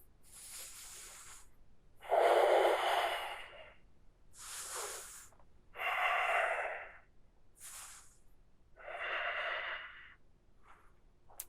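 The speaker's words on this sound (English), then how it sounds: "Continue to slow the breathing." Slow, deep breaths during a yoga flow, close and audible, with long airy inhales and exhales alternating in an even rhythm across several cycles.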